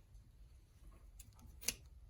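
Scissors snip ribbon tails on a summer wreath swag, giving a couple of faint, quick cuts with one crisp snip near the end against a quiet room.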